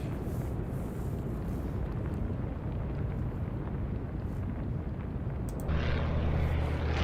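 A torpedo bomber aircraft in the naval game Atlantic Fleet gives a steady, dense roaring drone throughout, with a louder burst of engine noise near the end.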